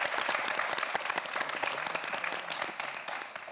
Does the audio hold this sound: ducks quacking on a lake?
no